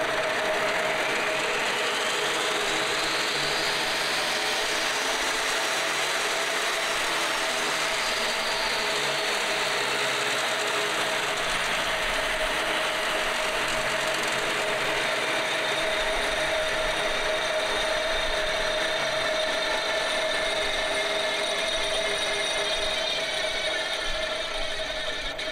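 A three-year-old chainsaw runs continuously for the whole stretch, a loud, buzzing, rattling drone with a rising whine early on, recorded close and alone without talk, during winter firewood preparation in the countryside.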